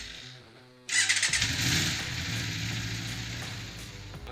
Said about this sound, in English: When that is done, then fire up the motorcycle.